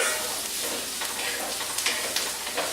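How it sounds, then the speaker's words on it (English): Steady, crackling sizzle of garlic and onions frying in a hot pan, with a few light stirring scrapes, close and continuous. "So we'll get that all nice and sizzling around."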